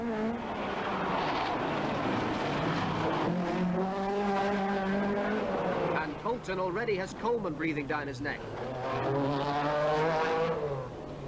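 Rally cars race through a stage of the 1986 Manx Rally, their engine noise running steadily under an excited commentator's voice that talks over it throughout.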